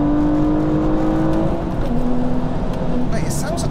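A 500 bhp widebody BMW M235i accelerating, its tuned engine pulling through rising and falling revs from inside the car, a steady droning note under light cabin noise.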